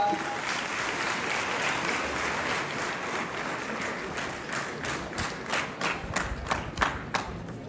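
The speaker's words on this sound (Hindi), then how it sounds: "इनके लिए तालियां बजाइए जरा।" Applause from students and spectators for a school team at a quiz competition in Kishtwar, steady crowd clapping that thins toward the end into a few louder, distinct rhythmic claps.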